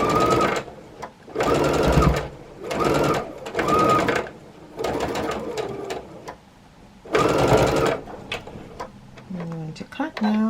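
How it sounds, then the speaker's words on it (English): A sewing machine stitches jelly roll quilt strips in about six close, rapid whirring runs broken by short pauses, with a brief voice near the end. "Put my presser foot down, and I'm going to sew."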